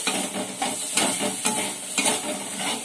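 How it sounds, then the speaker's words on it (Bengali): Slit green chilies frying in oil in a pan for a fresh jute-leaf stir-fry, stirred in a steady rhythm of about one scrape every half second over a continuous close sizzle. "এই যে লঙ্কাটা আমি চিড়ে নিয়েছি, দিয়ে দিলাম। একটু নাড়াচাড়া দিয়ে"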